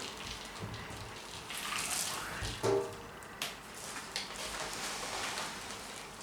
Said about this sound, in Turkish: Ben buna su koyayım. Hemen can suyumuzu da az birazcık verelim.